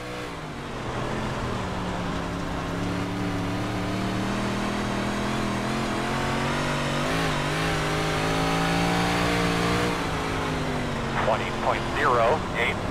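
A 358 modified race car in iRacing at Port Royal, engine droning steadily and loud with harmonic bands rising and falling as the tires spin, running continuously throughout, with a few brief voice bursts near the end.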